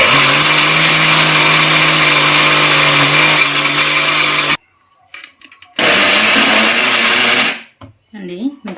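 A kitchen mixer grinder grinds spice ingredients with turmeric, a loud, steady whirring motor drone that cuts off abruptly, then starts again for a second burst before stopping.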